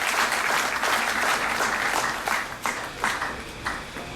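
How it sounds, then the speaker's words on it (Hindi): Audience at a Rashtriya Muslim Manch seminar in India breaks into loud, sustained clapping to welcome a guest onto the stage, steady at first and then thinning into scattered bursts of claps. "जोरदार तालियों से उनका स्वागत करें।"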